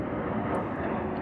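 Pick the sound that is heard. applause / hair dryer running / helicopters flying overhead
helicopters flying overhead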